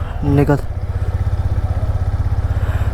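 A Yamaha R15 V4 sport motorcycle engine idling close by with a steady, rapid low thump, a brief voice at the start, then the motor running alone.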